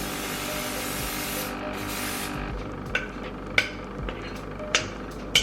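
Several short sharp hisses of aerosol cooking spray onto a baking pan, spaced irregularly over a brief stretch, following a longer blast of spraying at the start.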